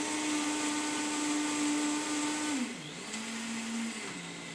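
Juicer grinding soft, seed-filled golden berries, a loud steady motor whine whose pitch dips and shifts as the fruit loads it, heard alone without talk.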